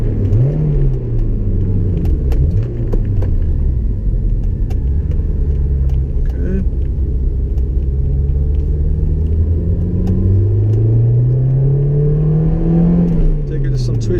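A Honda S2000 on a test drive gives a steady, loud engine rumble with rising and falling tones as it accelerates and shifts, and road noise runs continuously underneath.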